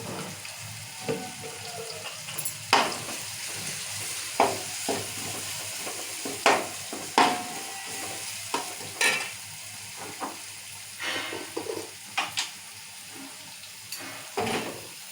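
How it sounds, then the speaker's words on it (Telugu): Ginger garlic paste sizzling in a pan, heard as a steady low fry broken by frequent sharp stirring scrapes and clinks, cooking for a fish curry; no talking. "ఒక స్పూన్ అల్లం వెల్లిగడ్డ వేసుకున్నాను"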